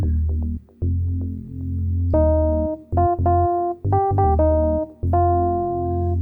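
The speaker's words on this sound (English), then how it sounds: "so the bass line we have sounds like this" A synth bass line plays in music production software, a low sustained line of held notes with short gaps between them and brighter harmonic tones entering partway through, steady and close with no talk.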